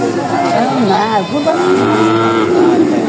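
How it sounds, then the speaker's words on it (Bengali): Bulls and cattle at a village cattle market lowing loudly and close, overlapping drawn-out moos over a crowd murmur, with people talking nearby. "ঠিক না গরু কম আসছে না ওই তুলনায়?"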